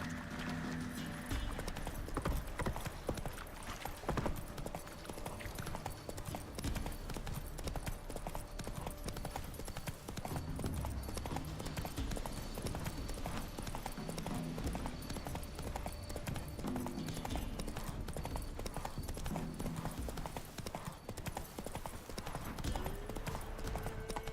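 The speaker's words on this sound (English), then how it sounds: "Run, Roach" Horse hooves galloping in the Witcher 3 video game, a fast, continuous clip-clop of hoofbeats running the whole length at moderate loudness, with game sounds mixed in and no talking.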